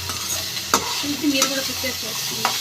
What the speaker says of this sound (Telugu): నెయ్యి వేడి చేసిన తర్వాత దీంట్లో స్వీట్ కార్న్ వేయాలి ఉడకబెట్టినవి